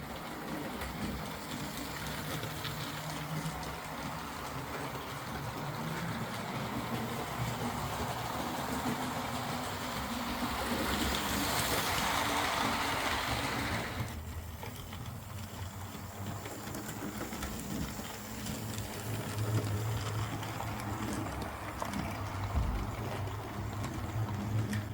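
A model locomotive fitted with a replacement Hornby X04 motor runs continuously around track, giving a steady whirring hum with mechanical rattle that briefly grows louder midway, with no talk.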